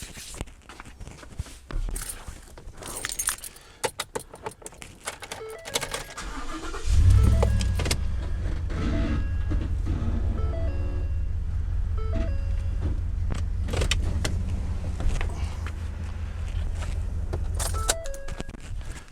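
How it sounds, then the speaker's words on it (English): Pickup truck pulling forward after unhitching from an Airstream trailer, with jingling and clicking handling sounds before the engine starts and settles into a steady low idle and rumble. "I'm high enough now, I can pull my truck forward."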